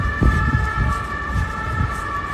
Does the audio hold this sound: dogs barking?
no